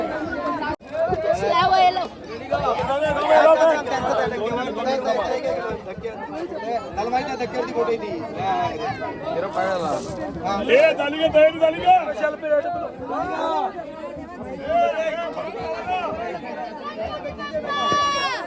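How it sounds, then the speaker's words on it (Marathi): A dense crowd at a Ganpati immersion procession fills the air with continuous loud chatter and overlapping voices, a busy babble close around throughout. "फुल गर्दी बघा"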